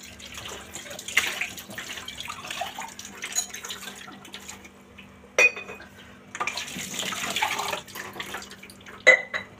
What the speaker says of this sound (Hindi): तो यहाँ पे जब तक मेरे बर्तन क्लीन हो रहे होंगे